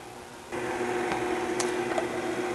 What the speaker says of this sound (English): We're going to mix this for about 20 seconds to fully develop and aerate the cake mixture.